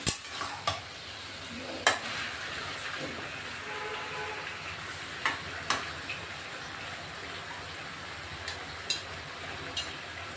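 Village chicken marinated in salt, turmeric and ginger-garlic paste is stir-fried in a pan with a soft, continuous sizzle, while the spatula scrapes and clinks against the metal at scattered moments.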